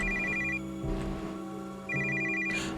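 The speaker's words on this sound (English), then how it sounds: "That's the phone." A telephone in a video game rings in two repeated electronic trill bursts over a steady low ambient hum, clear and moderately loud.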